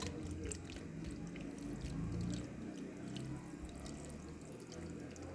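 Water is poured into a pot to make homemade honey, giving a faint, continuous low gurgling wash that stays even throughout.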